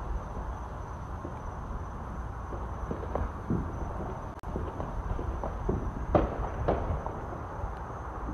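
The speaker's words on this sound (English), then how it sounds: "I hear fireworks everywhere, but I don't see them" Distant New Year's Eve fireworks pop and crackle sporadically, faint thuds and bangs scattered over a steady outdoor background of insect-like hiss.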